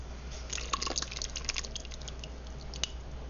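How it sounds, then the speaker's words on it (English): Ragu sauce spooned into a pan for tagliatelle with ribs, with soft wet drips and squishy plops scattered over a steady low hum, close and quiet. "now we're going to add the ragu first"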